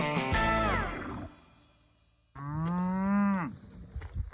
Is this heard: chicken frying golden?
no